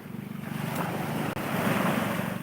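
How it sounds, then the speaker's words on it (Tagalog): Strong ocean waves wash onto a seashore in a steady, loud roar of surf mixed with wind buffeting the microphone, with no voices. "Lakas kasi ng alon."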